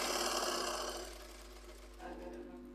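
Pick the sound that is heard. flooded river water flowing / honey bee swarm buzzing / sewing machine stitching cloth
sewing machine stitching cloth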